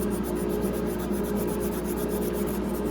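Rolled-up sandpaper worked by hand over wood on an intarsia box, making a loud, continuous close rasp with rapid even back-and-forth strokes and no speech.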